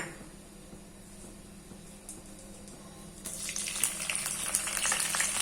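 Fenugreek and cumin seeds hit hot oil: after a quiet stretch a bright, crackling sizzle bursts in abruptly and keeps spattering steadily to the end.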